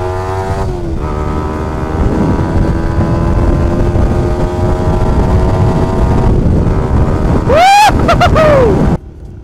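Remapped motorcycle engine revving hard, a sustained loud drone with rising pitch, then a few sharp quick throttle blips near the end before it drops off; no talk.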